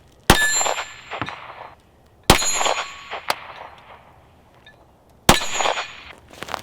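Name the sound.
9mm gunshot with reloaded Shell Shock cases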